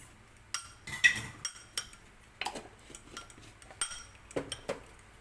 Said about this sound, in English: Then give him good mix. Give a good mix.